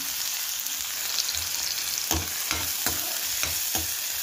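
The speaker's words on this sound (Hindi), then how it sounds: "फिर ये प्याज और हरी मिर्च इसको हम लोग भूनना है" Onion and green chili frying in a pan with asafoetida, a steady sizzle filling the clip while a utensil stirs and scrapes in several distinct knocks, close and moderately loud with no talking.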